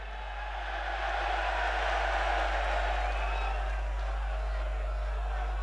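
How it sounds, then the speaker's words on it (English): A large crowd at a UFC 304 press conference roars continuously, a loud, sustained wall of voices and noise that swells early and holds steady, with a deep hum beneath it. "The crowd's that loud, I can't even hear you."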